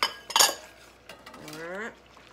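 Spoon clinking and scraping in a pot of chocolate meringue pie filling, a couple of sharp metallic hits followed by softer stirring, with a brief voiced sound near the end.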